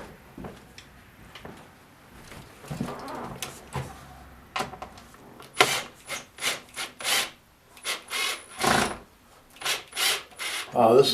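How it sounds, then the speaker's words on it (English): A screwdriver backs two Phillips screws out of a Honeywell RTH 221B thermostat, producing quiet scraping at first and then a run of short, rhythmic grinding turns close by. "now we're going to take these two Phillips screws out"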